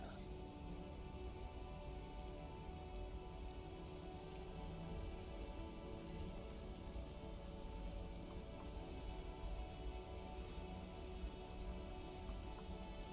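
Rain falling in the video game Disco Elysium, a soft, continuous patter and hiss of drops on surfaces, even and faint throughout with no talk.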